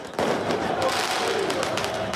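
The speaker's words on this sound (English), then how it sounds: "Fireworks were set off." Fireworks crackle and bang amid street crowds during a chaotic celebration in France, a dense burst of sharp pops over a loud, continuous roar of noise.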